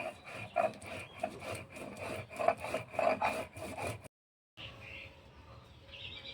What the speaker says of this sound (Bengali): আর কয়েকটা সরষে আমি বেটে নেব